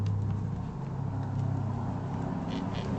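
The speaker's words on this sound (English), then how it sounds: "There's a car." A car drives past outdoors, a steady low engine rumble and road hum at moderate distance that holds fairly constant with faint broadband hiss and no talking.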